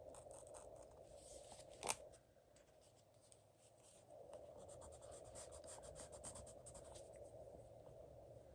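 Scissors snip through paper tape in one sharp close cut, followed by quiet rubbing and shuffling of tape against fabric while clothing is fitted, with faint handling noise throughout.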